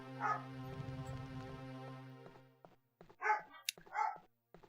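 Dogs bark and yip upstairs in short bursts, muffled and somewhat distant, after a sustained tonal drone from a game fades out.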